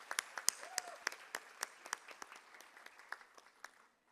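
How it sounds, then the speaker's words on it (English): Audience at an inauguration ceremony for a Korean cultural institute in Dhaka gives a round of applause, a scattered, fairly faint patter of clapping that thins out over a few seconds. "A round of applause for him"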